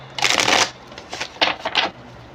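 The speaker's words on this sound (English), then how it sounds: "I just feel like I really want to shuffle these cards a lot today" Tarot cards are shuffled by hand in several quick bursts, crisp riffling flutters separated by short pauses, close and clear with no talking.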